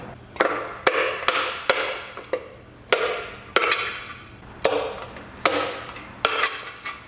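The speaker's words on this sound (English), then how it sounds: "all I need to do is hammer out these pistons, just with the rubber mallet, straight down" A rubber mallet strikes about a dozen times in a steady, deliberate rhythm, hammering pistons out of a 1.6L Miata engine, each hit sharp and ringing briefly before the next.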